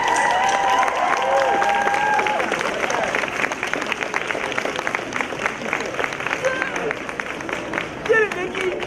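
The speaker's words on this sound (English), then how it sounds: "give them a big round of applause." A large crowd applauds steadily at a University of Delaware convocation ceremony, dense clapping filling the space with some cheering and background chatter mixed in.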